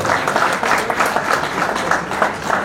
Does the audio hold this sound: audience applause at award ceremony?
yes